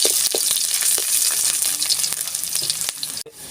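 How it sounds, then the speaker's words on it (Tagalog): Garlic and ginger sautéing together in a hot pan, a loud continuous sizzle with stirring scrapes and clatters, ending in a sharp clank. "magigisa na po tayo. Bawang at luya, sabay na lang po natin"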